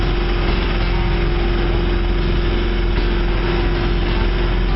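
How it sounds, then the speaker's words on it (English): A sailboat's engine running on the water near Chicago, a loud, steady, unbroken drone with a constant tone and no variation throughout. "Turn the engine back on."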